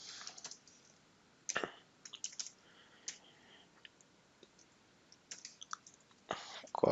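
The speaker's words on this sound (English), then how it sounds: "Let's type a message here." Scattered keystrokes on a computer keyboard while a customer order confirmation email is composed, quiet irregular clicks in short bursts with pauses between, no talking.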